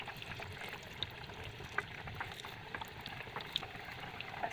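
Bitter gourd and lentil fritters fry in hot oil over a low flame, making a faint continuous bubbling sizzle with a few small pops and no voices.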